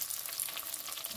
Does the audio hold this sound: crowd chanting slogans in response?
no